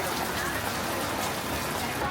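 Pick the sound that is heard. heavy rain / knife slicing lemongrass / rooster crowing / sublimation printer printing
heavy rain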